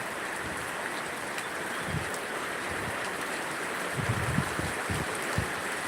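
Heavy rain comes down over a rice paddy field as a steady hiss with scattered low thumps of drops and splashes, fairly soft and without voices.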